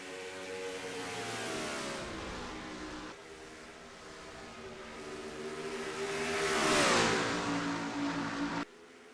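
Race cars lapping Rockingham in a racing video game, several engines droning and revving together with a shifting pitch that swells to a loud pass near the end, heard alone with no talk.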